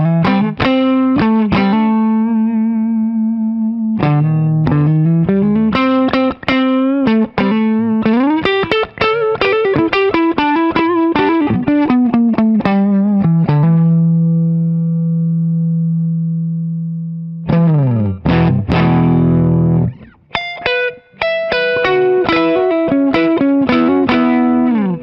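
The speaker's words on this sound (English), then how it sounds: "All right, let's try the neck." A Chillcat Les Paul-style electric guitar on its neck pickup, played with gain, runs through distorted licks and chords, then holds long sustained notes before more fast phrases, loud and close with no talking.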